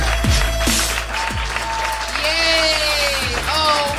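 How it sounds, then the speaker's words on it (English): A live comedy audience applauds and cheers in a club, a broad steady wash of clapping with whoops, while a voice talks over it. "Oh, you guys are still clapping!"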